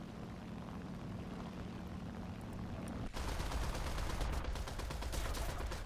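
Rapid 20mm cannon bursts from a J6K1 fighter in War Thunder, a dense rattling volley breaking in around the midpoint over a steady droning propeller engine and lasting to the end.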